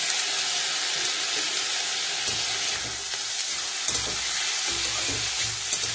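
Egg fried rice with black pepper and a splash of soy sauce sizzles in a pan, a steady close frying hiss broken by stirring scrapes.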